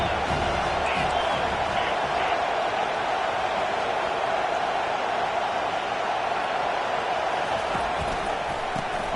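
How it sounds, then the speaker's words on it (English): Stadium crowd roar at a Utah college football game, a loud, continuous wash of voices that stays steady throughout. "listen to this crowd noise. The stadium is vibrating."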